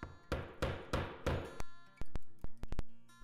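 A hammer strikes a setting tool to fix a metal stud on a sling bag, about ten sharp close whacks in quick, uneven succession.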